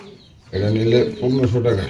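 Racing pigeons coo inside sale cages, a red female among them; a low, throaty cooing starts after a brief quiet moment and continues in two close, fairly loud rolling phrases.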